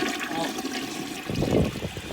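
Vintage 1980 Cadet toilet flushing with a strong rush of water that swells in the second half, heard alone without talk.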